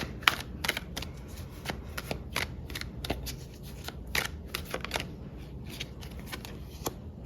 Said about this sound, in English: But let's pull some cards and get some details.